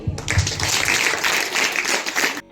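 Audience applause at a school farewell ceremony for an eighth-grade class, welcoming the headmaster to the stage; a fairly dense burst of clapping that holds steady, then cuts off abruptly.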